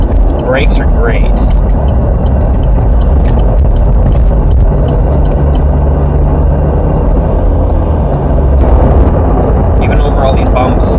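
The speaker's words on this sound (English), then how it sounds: "All these bumps, like, I'm hearing it, but I'm not feeling it." A 2012 Chevrolet Equinox LS AWD rolling over bumpy road, heard from inside as low thuds and rumbling road noise beneath steady in-cabin driving sound, with a person talking over it.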